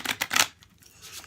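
Tarot deck being shuffled by hand, a few quick papery riffles of cards close up, fairly soft, followed by a faint brushing sound in a quiet room.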